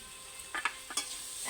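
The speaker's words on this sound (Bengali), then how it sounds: "মশলার সঙ্গে কচু আলু বেশ কয়েকবার নেড়ে নেব।" Taro and potatoes tossed with spices in a pan, a few quick spatula scrapes and clinks over a low steady sizzle, close and fairly quiet.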